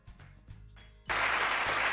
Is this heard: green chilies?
no